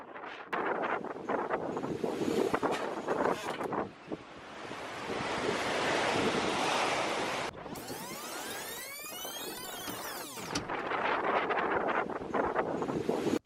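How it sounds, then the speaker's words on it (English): A sailboat crashes through big ocean waves in the Bay of Biscay under heavy wind buffeting the mic. Rushing surf and spray rise and fall, with a brief whining drone-like tone in the middle. "the boat crashing through the waves"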